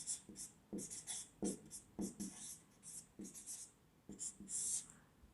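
Marker or chalk writing on a board, soft repeated scratchy strokes in short bursts with brief pauses, faint and close, with quiet speech in the background.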